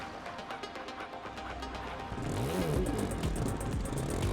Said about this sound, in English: A dirt bike.